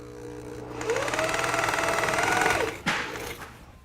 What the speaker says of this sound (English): has a 3/8 SDS plus bit on it, quad head, so we can cut through this fairly quickly